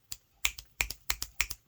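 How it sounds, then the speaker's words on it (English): Six crisp finger snaps, close and dry, snapped in a quick uneven rhythm within under two seconds, with silence between each click. "at least I can still snap my fingers in spite of arthritis"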